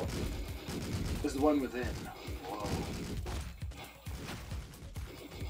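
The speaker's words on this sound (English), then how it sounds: "Oh, the cannibals have machine guns?" Machine gun fire from cannibals in the video game Streets of Rogue, rapid clustered shots under an excited voice exclaiming, with bursts spread through the clip amid game noise.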